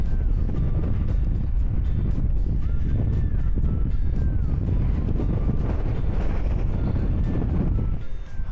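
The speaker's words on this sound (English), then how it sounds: "I don't know if you can hear this because the wind is so bad" Strong wind roars and buffets the microphone on an exposed hilltop at the Quiraing on Scotland's Isle of Skye, a constant loud rumble with gusty pulses that continues throughout.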